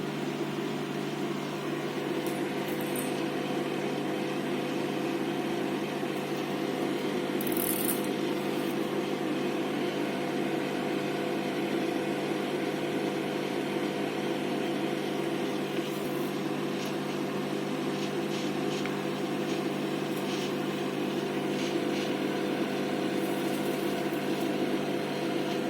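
Samsung microwave oven running on heat mode while papads roast inside without oil: a steady, even mechanical hum with a low drone, continuous and unchanging throughout, with no talking.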